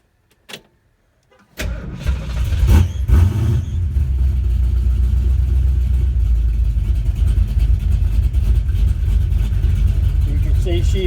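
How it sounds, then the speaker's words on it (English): A 1965 Mercury Comet Caliente with a 460 big-block V8 cranks and fires, then settles into a loud, steady, rumbling idle close by, with a brief click beforehand and a voice talking. "fire it up, and so you can hear a startup."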